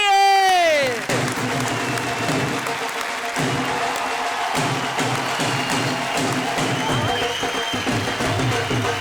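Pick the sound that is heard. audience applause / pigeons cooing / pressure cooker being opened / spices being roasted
audience applause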